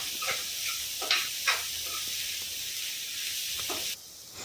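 Vegetables stir-fried on a high flame for chicken fried rice, a steady bright hiss of sizzling oil with a few sharper crackles and spatters, loud and close, ending in a quieter sizzle.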